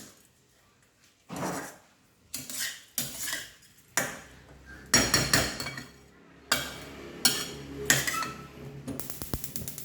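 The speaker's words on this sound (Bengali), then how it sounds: "আমি খুন্তি দিয়ে মেখে নিচ্ছি" A metal spatula working rice for basanti polau in a pot, bursts of scraping and clanking knocks coming in irregular strokes, close and fairly loud with short pauses between.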